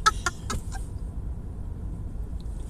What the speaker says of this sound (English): we're going to be surrounded by birds